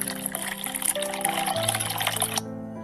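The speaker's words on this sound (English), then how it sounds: "Pour 200 ml of water in the pipe and let the water percolate slowly." Water being poured into a narrow hollow pipe set a few centimetres into the ground for a soil percolation test, a steady gushing, trickling pour that runs continuously for a couple of seconds and then stops abruptly.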